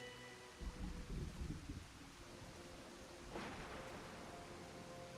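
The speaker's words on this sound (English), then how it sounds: "I don't know how long the rain will last." Rain falls in the Disney Dreamlight Valley video game, a steady soft wash of drops with a low rumble like thunder early on, quiet and continuous.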